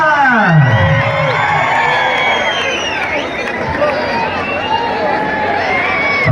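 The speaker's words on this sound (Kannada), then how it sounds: "ಅನೇಕ ಬಾರಿ ಫೈನಲ್ ಮಾಡಿರುವಂತಹ ತಂಡಗಳಿಗೆ ಒಂದ್ಸಲ ಜೋರು ಚಪ್ಪಾಳೆ" A crowd at a kabaddi final in Tamba Dasara roars with loud, sustained cheering and whoops, the continuous noise close and dense for the whole stretch.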